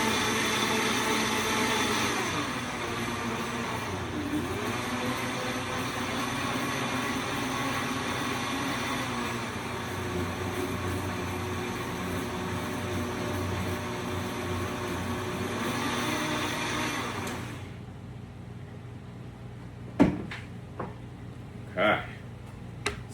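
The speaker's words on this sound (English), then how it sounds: "All right, so we're gonna blend this up." A loud, continuous whirring roar of a blender blending a fresh aloe leaf with water for most of the clip, then it stops, leaving quiet with a few faint knocks and clicks.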